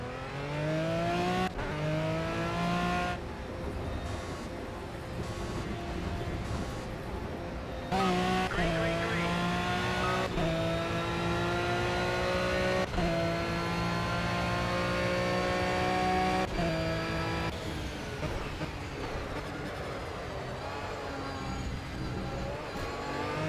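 Racing cars in a PS4 racing game roar at high revs, with the engine tones repeatedly rising and dropping through gear changes and a little tire noise, loud and continuous throughout.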